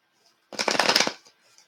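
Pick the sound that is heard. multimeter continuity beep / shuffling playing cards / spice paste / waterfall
shuffling playing cards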